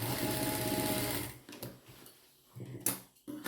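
A sewing machine stitches lining fabric, running in a steady buzzing whir for over a second, then stopping and restarting in short bursts with small clicks and rustles between them.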